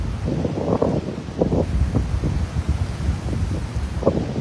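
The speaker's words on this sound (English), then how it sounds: "Ooh, this is windy, yeah?" Low, blustery wind buffeting a microphone, a steady rumbling roar with gusty surges throughout and no speech.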